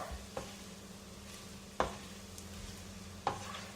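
Bread egg masala is mixed in a pan over a faint, steady sizzle, with three sharp scrapes of the spoon against the pan spaced about a second and a half apart. Quiet and close, with no voices.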